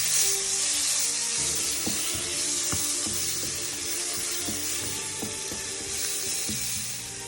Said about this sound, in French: On écrase bien dans la poêle les poivrons avec l'échalote pour obtenir un petit peu comme une pâte